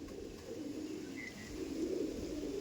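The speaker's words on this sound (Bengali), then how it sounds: "এই দেখুন আরেক জোড়া আমার ফুল সিরা পায়রা, শখ করুন পায়রা দেখুন।" Pigeons of the Andhra full-sira breed cooing softly and continuously in a low, throaty murmur, faint and close, with no talking.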